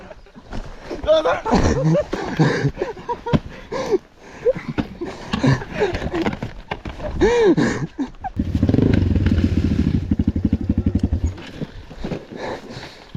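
A motorcycle engine revs and putters loudly nearby, its rough rattling drone rising in the second half amid shouting voices.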